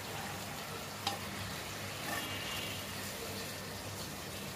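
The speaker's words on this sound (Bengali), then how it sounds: "এই ভাজা মাছগুলো এর ভেতরে দিয়ে দিলাম।" Fried fish dropped into a pan of spices sizzles steadily and fairly quietly, a continuous hiss of frying oil with one brief clatter from the pan.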